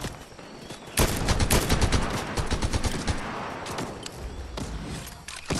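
Rapid bursts of automatic gunfire in a Fortnite squads battle royale match, dense overlapping volleys starting after a second and continuing loud and close, with sharp isolated shots near the end.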